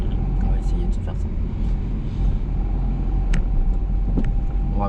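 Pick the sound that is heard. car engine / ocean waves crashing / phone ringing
car engine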